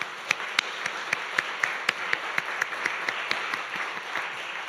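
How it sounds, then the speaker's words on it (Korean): Congregation applause during a Wednesday church service, a steady wash of many hands clapping with distinct sharp claps rising above it, moderately loud and continuous with no talking. "하나님께 영광의 박수 올려드리겠습니다."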